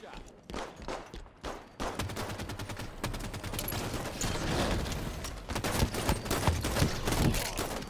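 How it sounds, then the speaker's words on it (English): Sniper rifle and other gunfire from a Halo game start as a few sharp separate cracks, then build into a dense, sustained volley of shots that grows slightly louder toward the end. "Sniper fire, moving."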